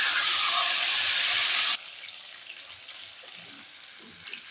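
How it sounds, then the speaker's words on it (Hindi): Onion paste goes into a pan of frying beef liver with a loud, bright burst of sizzling that cuts off abruptly into a quieter, softer simmer and sputter. "अब मैं इसमें प्याज का पेस्ट शामिल करूँगी।"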